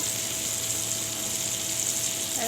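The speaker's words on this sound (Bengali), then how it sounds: "এখন মাছ ভাজি করবো" Fish frying in a pan with oil: a steady, soft hiss and crackle that continues evenly throughout, close by and fairly quiet, with no voices.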